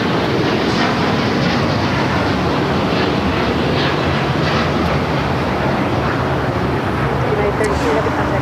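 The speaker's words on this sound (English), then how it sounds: "got that United Dreamliner now rolling down at 25 right" A United Airlines Dreamliner bound for Tokyo Narita rolls for takeoff on runway 25 right at LAX, a loud, sustained broadband jet roar that holds steady throughout.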